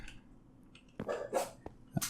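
A Minecraft dog barks a few times in short, separate yelps against quiet game ambience, sounding fairly soft and slightly distant.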